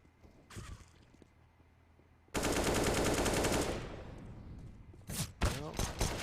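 Automatic AK and P250 pistol gunfire in a Counter-Strike pro match, starting with one loud sustained burst that tails off, then several sharp separate shots near the end, with faint speech in the background.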